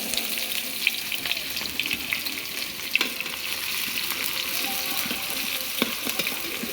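Oil sizzles in a pan while fish is being cooked, a steady close hiss broken by a few light clicks and scrapes, with no speech over it.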